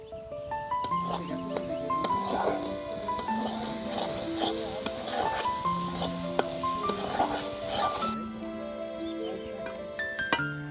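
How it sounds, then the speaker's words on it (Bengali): Slit green chillies sizzle and crackle in hot oil with a steady frying hiss, and background music plays throughout. "এর ভিতরে এখন দিয়ে দেব চেরা কাঁচা লঙ্কাগুলো"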